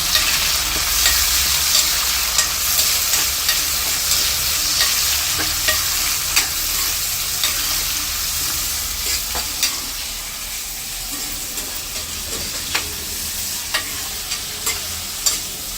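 Curry leaves and tomatoes frying in a pan, a steady bright sizzle with regular spoon strokes and scrapes stirring them, close and continuous.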